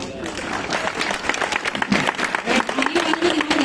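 Schoolchildren clapping hard in a ninth-class classroom, a dense rattle of many hands with talk and voices running through it.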